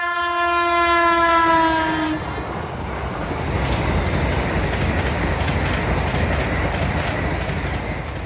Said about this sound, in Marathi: रेल्वे क्रॉसिंगवर या सुपरफास्ट ट्रेनचे आम्हाला दर्शन झाले